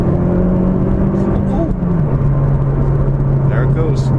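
A 2015 Opel Corsa OPC, a small lightweight hatchback with a 1.6-litre turbocharged engine, is heard from inside as a steady engine drone shifts pitch around the downshift to third and then holds a strong, even note under acceleration.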